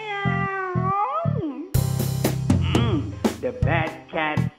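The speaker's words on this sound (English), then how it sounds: "Meow." A domestic cat meows several times up close, the cries loud and drawn out, some rising into strained, wavering yowls.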